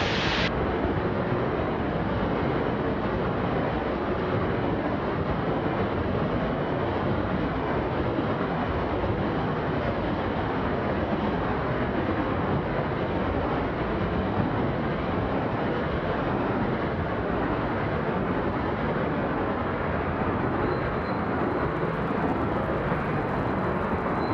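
A Zenith STOL CH 750 Super Duty aircraft lands and slides across snow with full flaps, heard as a loud, constant roar of engine and wind from inside the cockpit with no break.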